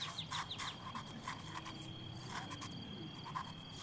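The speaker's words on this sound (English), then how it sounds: "It's nice to have a little ambience of some frogs and stuff." Background frog ambience in a cozy video game, with repeated short croaks and chirps in uneven bursts over a steady insect-like drone, moderately faint, with no voices.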